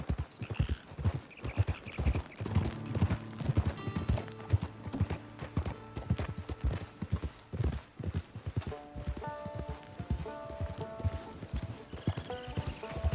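Horse hooves clip-clop at a steady trot in Red Dead Redemption 2, loud and close, with a continuous rhythmic beat and occasional jingling tack under game music, and no talk.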